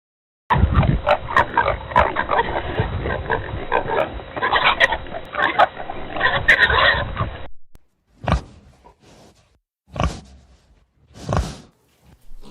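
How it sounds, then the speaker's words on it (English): Farm pig grunting and oinking in a dense, continuous run of loud, rough snorts for about seven seconds, followed by three separate short grunts with pauses between them. "A pig made this sound."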